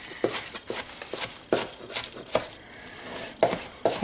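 Knife chopping cooked spinach on a cutting board, a series of sharp irregular thuds, close and fairly loud, with short pauses between bursts of cuts.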